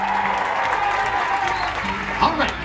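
A studio audience cheers and applauds at a game show aboard a cruise ship, a short burst of crowd noise with a louder swell near the end.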